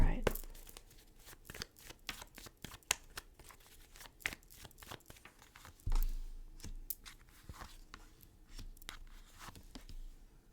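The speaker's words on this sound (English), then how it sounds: "Let's cut the deck." A tarot card deck is cut and shuffled close up, giving a dense run of crisp papery riffles and snaps with a few heavier flutters, under quiet surroundings.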